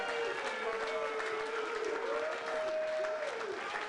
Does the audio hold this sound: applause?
yes